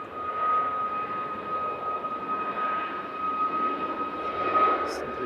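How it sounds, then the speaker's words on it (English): Ryanair Boeing 737 MAX 8-200 jet airliner on a flight to Palma at Manchester Airport, a steady broadband engine roar at moderate distance with a sustained whine, continuous throughout and no talking. "This must be the Ryanair to Palma"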